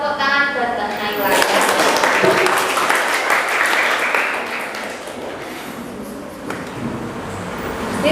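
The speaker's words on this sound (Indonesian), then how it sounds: "Tepuk tangan buat Mbak Naila" Classroom applause for a student, a burst of clapping from a group of pupils that swells and then fades gradually over several seconds, with voices mixed in.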